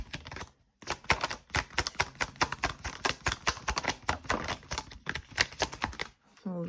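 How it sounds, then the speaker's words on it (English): Tarot cards spilling from the deck during a fast riffle shuffle, a dense run of quick papery slaps and flicks lasting several seconds, close and fairly loud, with a short pause near the start. "Oh, the deck's falling out now"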